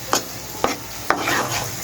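Onion paste and ground peanut paste sizzle in hot oil in a pan, with three distinct scraping stirs spaced about half a second apart over a steady close frying hiss.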